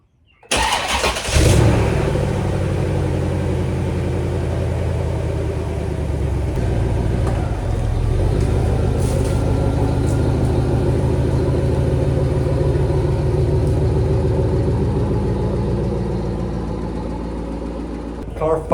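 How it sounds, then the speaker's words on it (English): A drift car's engine cranks briefly, catches and fires up loudly close by, then settles into a steady, rumbling idle that holds for the rest of the stretch before dipping slightly at the end. "Car fired up perfect, just like every time, so it's definitely good."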